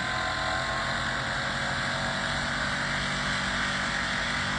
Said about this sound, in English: Sorry about the noise, you guys. They're cutting the grass.